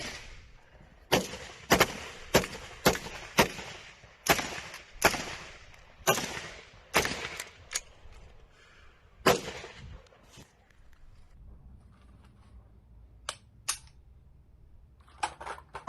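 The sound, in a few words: gunfire from firearms practice in a basement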